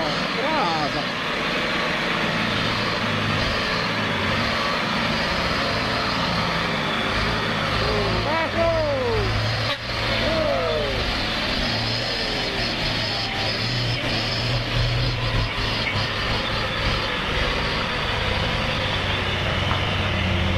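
A long orange truck's engine labors and revs as the truck pushes through deep mud on a rough track, a steady loud rumble running throughout with people talking over it.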